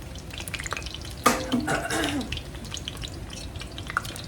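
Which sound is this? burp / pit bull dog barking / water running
water running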